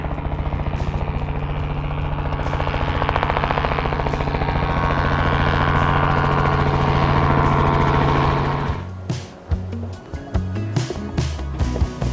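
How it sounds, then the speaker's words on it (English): Loud, close helicopter drone over an Alaskan glacier, with a steady thrumming rotor and engine roar, then it abruptly drops away into scattered clattering and handling noises near the end. "Helicopter tour."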